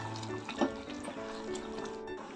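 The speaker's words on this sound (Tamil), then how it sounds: "மிக்ஸி ஜார் கழுவி அந்த தண்ணியை ஊற்றிட்டு காட்டுறேன்." Water from a rinsed mixer jar poured into a simmering potato and capsicum curry, a brief soft liquid splash and trickle, close and fairly faint.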